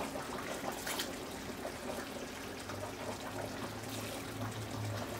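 Starchy pasta water is poured into a jar in a home kitchen, a faint, steady trickle and pour with no talking.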